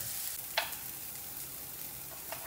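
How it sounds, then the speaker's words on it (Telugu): Carrots, capsicum and zucchini sauté in a pan with a soft, continuous sizzle. A few brief stirring scrapes cut through it, and no one talks. "మనకి ఇది ఒక 2-3 మినిట్స్ పడుతుందండి సాటే అవ్వడానికి."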